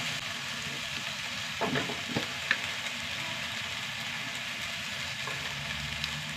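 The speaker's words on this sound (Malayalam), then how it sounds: "തക്കാളി ഒന്ന് വഴണ്ട് വരട്ടെ" Tomatoes sauté in a hot pan for a Kerala-style dish, giving a steady, moderate sizzle with a few soft scrapes and clinks from stirring near the middle. No one speaks.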